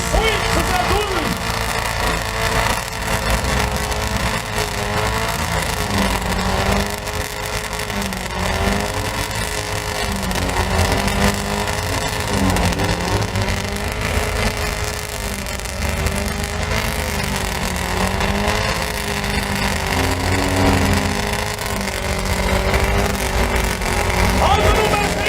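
A battered rally car races at a 2012 Estonian wreck rally in Antsala, its engine droning and revving steadily throughout under near-constant excited commentary, the motor strained and heard from a moderate distance.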